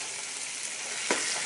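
Vegetarian chorizo sizzling loudly in a hot frying pan, a dense steady crackle with one brief scrape as it is stirred near the end; no talking.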